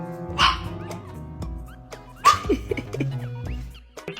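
A dramatic dog howls and whimpers in a few drawn-out, wavering cries, with yips and sniffly whines between them, close and fairly loud.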